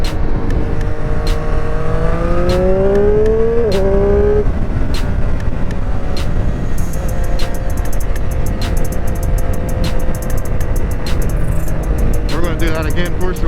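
A 2021 Triumph Street Triple RS naked motorcycle engine revs and pulls through gears at around 6,500 rpm, rising pitch sweeps followed by a steady loud drone with wind noise, continuous and close throughout.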